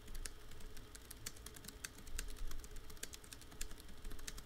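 Fingers typing on a computer keyboard at a desk, a steady run of rapid close clicks and clacks with a few slightly heavier keystrokes, heard alone against faint room hiss.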